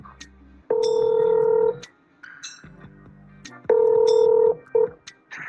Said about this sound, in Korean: 일단 전화 연결해 보겠습니다.